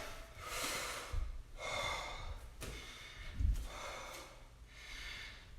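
Heavy, audible breathing after a karate workout at home, with repeated deep inhales and exhales, a few snort-like puffs, close to the microphone.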